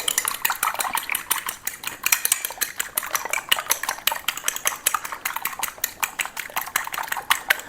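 Two eggs are whisked in a bowl for a breakfast sandwich, a fast, steady rhythm of a utensil clinking against the bowl, close and clear with no talking.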